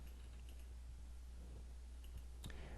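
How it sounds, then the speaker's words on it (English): Quiet, close keyboard typing on a computer while entering an algebra word problem, a scattering of light clicks over a low steady hum. "now I'm going to attempt to type."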